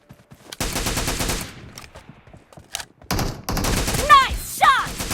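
Rapid automatic gunfire bursts in the mobile battle royale game PUBG Mobile, loud close fusillades separated by brief pauses, with whizzing ricochet-like effects near the end.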